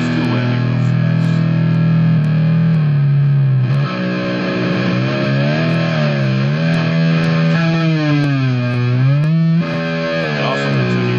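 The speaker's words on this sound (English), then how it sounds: "Whammy, that's a cool effect. That's kind of one of Digitech's most famous effects." Electric guitar run through the whammy pitch effect of a Digitech GNX1 multi-effects unit, a loud, distorted sustained tone whose pitch bends and sweeps up and down continuously, played alone.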